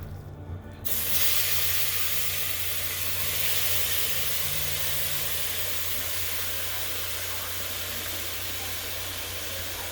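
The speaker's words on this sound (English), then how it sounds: "So I can hear the oil in the background." Hot oil in a one-pot cooking pan sizzles steadily after a brief quiet start, a broad even hiss that carries on loudly and alone throughout.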